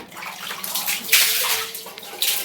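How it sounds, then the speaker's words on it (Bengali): Water splashing and running across a tiled bathroom floor while it is rinsed after cleaning with a homemade mixture, close and fairly loud in uneven surges and gushes. "জল দিয়ে দিয়ে ধুয়ে দিচ্ছি"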